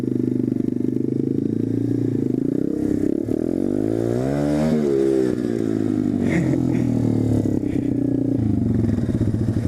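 Motorcycle engine running loud and continuous as it climbs a set of stairs, revving rising and falling with scraping and clattering over the steps.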